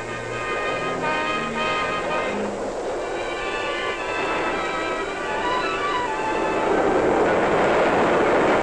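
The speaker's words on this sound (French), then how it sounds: "n'entendez-vous pas le train croiseur?" A passing train rolls along a railway track with a loud continuous rumble and metallic ringing tones, building slightly toward the end, with no voices.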